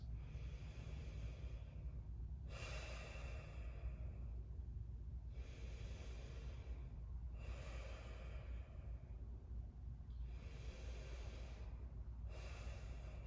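Slow, deep breaths during a yoga shoulder stretch, four long airy inhales and exhales at an even pace, close and soft over a steady low hum.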